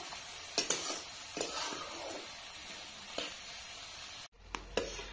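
Vegetables and ingredients for upma fry in a pan, giving a soft continuous sizzle broken by a few sharp stirring scrapes and clicks of the spoon, close by and without speech.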